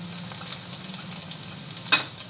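Turmeric goes into hot oil for a potato chutney, producing a soft, steady sizzle close by, with one bright metallic clink of a spoon against the pan partway through.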